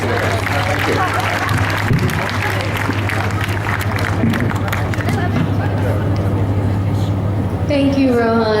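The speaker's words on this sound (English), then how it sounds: "Ladies and gentlemen, a round of applause for the panelists today." An audience at a panel event claps for the panelists in sustained, fairly close applause mixed with crowd murmur, a voice speaking over the end as it fades.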